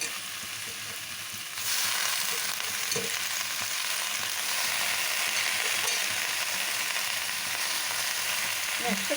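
Cleaned gongura (sorrel) leaves dropped into hot oil with turmeric: a steady bright sizzle swells suddenly when the leaves go in, then crackles on evenly, with occasional clinks of a stirring spoon.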